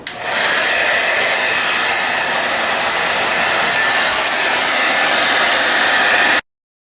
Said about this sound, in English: use the hair dryer on this and see how it comes out